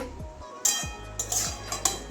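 Metal pot and utensils clink and scrape as cooked water spinach is lifted out of a kadai, with a few sharp knocks over a low background hum, close and fairly loud.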